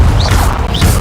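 A Confringo blasting spell in Hogwarts Legacy: a short, loud crashing boom with heavy low-end rumble and two brief whooshing streaks over it.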